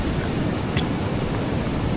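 Strong wind blows steadily at the sea on the coast of Bataan, a broad continuous roar with surf churning beneath it, close and loud throughout.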